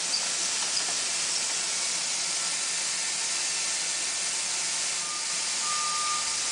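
Steady broadband hiss of steam rising off a thick ceramic insulation coating freshly applied to a hot pipe, continuous and fairly loud, close by and unchanging throughout, with no voices.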